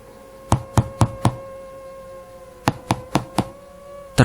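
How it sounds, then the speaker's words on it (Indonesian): Knocking on a house door at night comes as two groups of four sharp, evenly spaced raps with a pause between them, over faint background hum. "Terdengar suara ketukan pintu di rumah kami malam itu."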